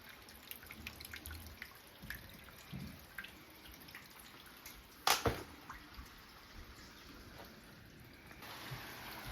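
Water seeps and drips into a flooded basement: a faint, steady wet trickle under low background hiss, with one sharper splashing drip standing out about halfway through.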